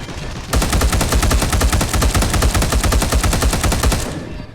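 Rapid sustained automatic gunfire from the Warhammer 40000 Deathwing video game pounds in a loud continuous burst lasting several seconds, close and alone, with no talking.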